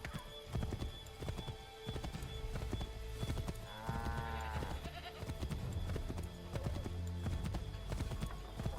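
Horse galloping in Assassin's Creed III, a fast, steady clip-clop of hooves throughout with a brief whinny midway, close and loud beneath game ambience.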